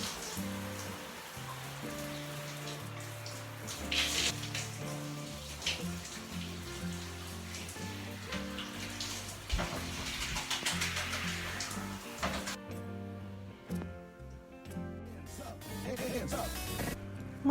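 Running water rinses a rice water and orange peel treatment out of hair with a steady splashing patter, with background music playing underneath.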